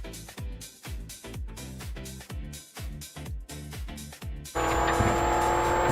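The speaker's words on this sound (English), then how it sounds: "Let's see this car get sideways." A rally car drives a gravel stage, engine revving in repeated rising pulls as it slides sideways, loud and close, then a steady high-pitched roar takes over near the end.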